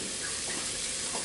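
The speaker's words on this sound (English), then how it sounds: "I'm starting to hear a little sizzling going on in my pan." A soft, steady sizzle hisses from sausage and thyme in a hot pan, close by, with no voices over it.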